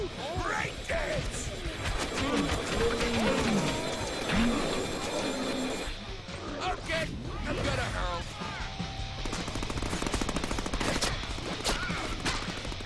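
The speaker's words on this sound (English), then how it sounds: "Where's all the gunfire coming from?" Gunfire in the Deadpool video game, with rapid shots and crashes in a dense, continuous barrage mixed with game effects and background music, moderately loud throughout.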